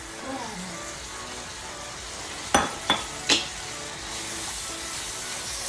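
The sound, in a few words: bourbon and bacon cooking down in pan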